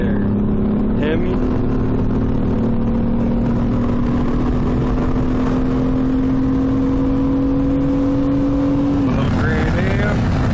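A Hemi Dodge truck and a 1999 Pontiac Grand Am SE V6 accelerate, giving a steady rising engine drone that climbs in pitch for several seconds and then cuts off, with traffic noise around it.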